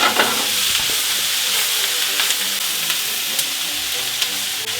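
Mushrooms and onions sweating in a hot pan give a steady close hiss and sizzle, broken by occasional light clicks and scrapes of stirring, with no one talking.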